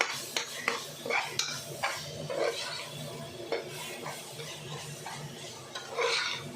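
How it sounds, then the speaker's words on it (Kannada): Garam masala and spices for mushroom biryani are stirred into a pot, a spoon scraping and clinking against the metal in irregular close strokes over a faint sizzle. "ಒಂದು ಸ್ಪೂನ್ ಆಗೋಷ್ಟು ಗರಂ ಮಸಾಲ ಒಂದು ಸರಿ ಮಿಕ್ಸ್ ಕೊಟ್ಕೊಂಡು"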